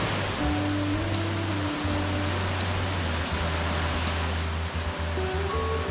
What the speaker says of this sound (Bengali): এখন বর্ষা বলেই ঢাঙ্গি কুসুমে ঝর্ণার এত স্রোত আর এত কলতান আমরা পেয়েছি